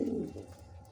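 Pigeons kept by a racing-pigeon fancier coo softly and continuously, a low murmuring sound that runs throughout without speech.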